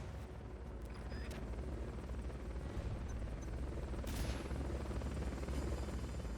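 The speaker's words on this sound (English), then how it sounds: "Fulton recovery subject confirmed onboard helicopter." A helicopter rotor drones steadily in the Metal Gear Solid: Peace Walker video game, a dense continuous whir over the whole stretch with a few sharp bursts on top.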